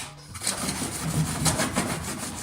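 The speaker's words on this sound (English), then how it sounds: "Start sanding." Rhythmic back-and-forth scratching of wet waterproof sandpaper on a block rubbing a gelcoat surface, close and steady, repeating about twice a second with no talking.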